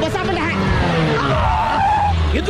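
A jeep skids to a sudden stop, its tyres squealing loudly and sliding with rising and falling screeches over a low engine rumble, up close.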